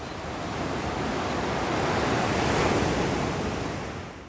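Ocean waves wash steadily onto a beach on Penang Island, Malaysia, a continuous near roar of surf that swells gently and fades slightly at the end, with no voices.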